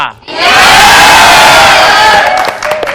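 A studio audience at a Telugu TV game show roars loudly in unison for a contestant. The sustained crowd shout starts abruptly and fades slightly toward the end.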